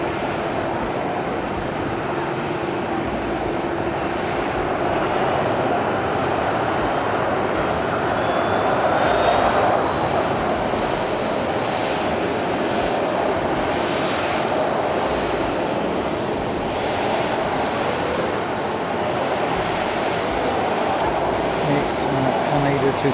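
An airliner arriving from Chitose at Haneda Airport gives a steady, loud engine roar that fills the whole stretch, swelling slightly midway, with no talk over it.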